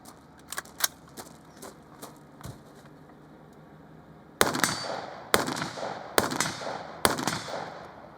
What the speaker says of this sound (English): to see how long it takes for the cop to get rounds downrange on target